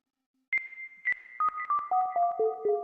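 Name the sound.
echoey delayed bleep synth preset from Beatmaker 3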